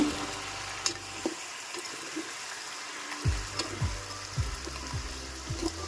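Crab curry simmering and bubbling in a pan, soft sizzling with a string of quiet bubbling pops and some stirring, low in level and without talk.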